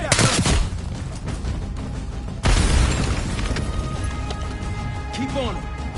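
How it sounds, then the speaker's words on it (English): A grenade goes off in the Call of Duty Black Ops 6 campaign, with a heavy boom near the start and another sharp blast midway, set against game combat noise and overlapping voices. "Grenade out!"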